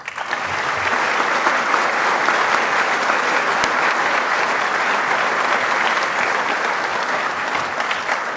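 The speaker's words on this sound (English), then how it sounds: "thank you for that awesome applause" Sustained audience applause at a recruit class graduation ceremony, steady and dense for the full stretch, loud and even with no voices breaking through.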